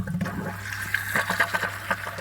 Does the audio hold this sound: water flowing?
yes